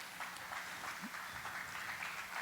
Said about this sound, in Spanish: darle una ofrenda de palmas a nuestro Dios